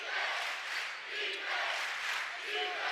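A basketball crowd at an NCAA tournament game stands and cheers, a steady broad roar that swells and dips in waves, distant and moderately quiet.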